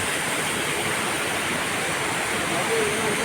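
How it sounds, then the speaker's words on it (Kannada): An indoor waterfall inside Bangkok airport gives a constant, even roar of falling water that fills the space close by, steady from start to finish. "ಏರ್ಪೋರ್ಟಲ್ಲಿ ನೋಡಿ ವಾಟರ್ ಫಾಲ್ಸ್ ಎಷ್ಟು ಚೆನ್ನಾಗಿದೆ ನೋಡಿ"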